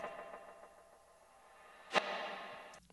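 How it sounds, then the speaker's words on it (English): Faint reversed sound swells through a washy reverb tail, ending in a sharp burst near the end, with a short clipped hit just after. "So your reverb's normal, but your sample's still backwards."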